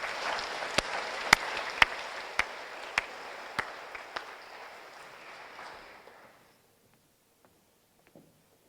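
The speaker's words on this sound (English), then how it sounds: "Please give a round of applause to all 3 of these papers for Distinguished Artifact Award" Audience applause at an academic computer architecture award ceremony, thinning out with a few loud individual claps standing out before dying away into near silence.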